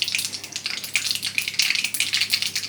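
Mustard seeds spluttering in hot oil in a pan for Tamil chukku kara kuzhambu, a close, busy crackle of rapid pops and sizzling with no talk.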